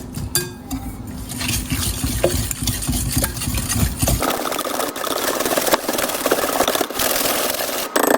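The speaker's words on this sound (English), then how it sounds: "Then we're gonna add our 2 eggs. And we'll whisk that together." Two eggs whisked together with half a cup of oil in a bowl, a steady, busy scraping and stirring rhythm that runs continuously and close up, with no talking over it.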